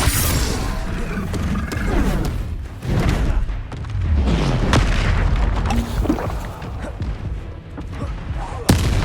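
Repeated Confringo blasting spells in the Hogwarts Legacy video game burst in a rapid series of booming explosions and crashes amid other combat spell effects, loud and close throughout, ending with a sharp final blast.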